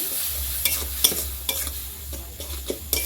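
Salt, turmeric, chili powder and cumin with ginger and garlic frying in a pan, a steady close sizzle punctuated by sharp scraping stir strokes at irregular intervals, no voices.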